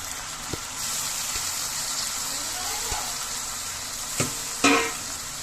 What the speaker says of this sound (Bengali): নুডলসগুলো দিয়ে আমি অল্প একটু হালকা করে নেড়ে নেব